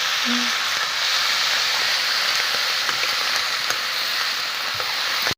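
Leaves and potatoes frying and being stirred in a pan, a steady close hiss of sizzling oil that runs unbroken for several seconds with faint scraping ticks, no voices.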